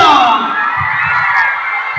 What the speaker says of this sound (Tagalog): Sumigaw lahat ng payoyo!